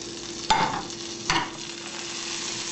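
Butter sizzles in a frying pan for an omelet, a steady soft crackle broken by two quick scraping clinks as the pan is tilted and the butter swirled to the edges.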